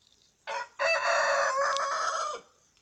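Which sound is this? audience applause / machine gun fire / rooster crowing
rooster crowing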